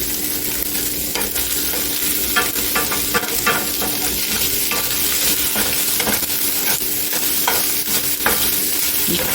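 Cream cheese melting on high heat in a pan, giving a loud, continuous sizzle and hiss close up, with scraping stirring sounds breaking through now and then.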